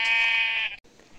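A Minecraft sheep gives one loud, close, nasal bleat lasting just over half a second, then stops, leaving near silence.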